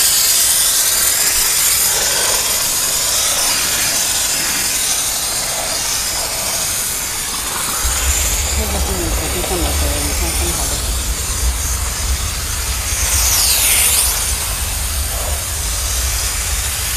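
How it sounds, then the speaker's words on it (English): A GOCLEAN steam cleaner cleans a car surface with a loud, steady, broadband hiss that carries throughout. A low rumble joins partway through, and voices sit faintly underneath. "Look, the steam is really strong."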